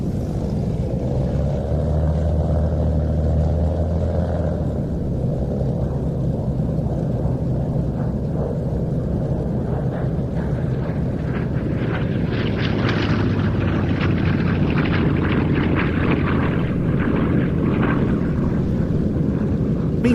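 A Hawker Sea Fury makes a final fly-past at an air show at IWM Duxford, its loud piston-engine roar swelling as it approaches and passes overhead, steady and dominant throughout.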